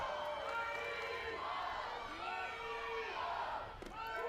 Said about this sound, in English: Schaefer's blast has definitely woke up this huge crowd